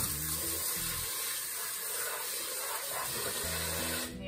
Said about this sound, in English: I add water in here, actually just to rinse off some dust and dirt